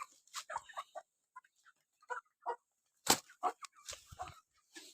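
A mother hen with chicks gives a series of short, irregular clucks, some sharp and close, scattered across a quiet background with brief gaps between calls.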